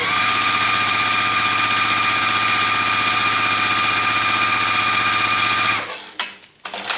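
A sewing machine stitches light and dark quilt fabric pieces together in a steady, fast, close mechanical whir that runs unbroken for several seconds, then stops abruptly, leaving a few faint handling sounds.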